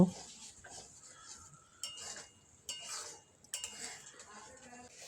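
Spices and yogurt sautéed over low gas heat in a pan for vegetarian matar paneer, with a spoon scraping and clinking against the pan in several separate strokes under a soft sizzle, close up, no speech.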